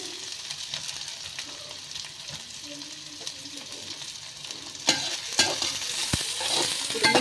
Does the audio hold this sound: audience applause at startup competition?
no